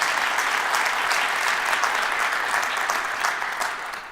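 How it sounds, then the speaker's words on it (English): Sustained audience applause for Senator Debbie Stabenow during the Flint mayor's 2024 State of the City address, full and even before tapering slightly at the end. "give her a round of applause"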